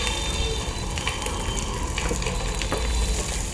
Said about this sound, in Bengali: ডিমগুলো একটু হালকা ভেজে নিব।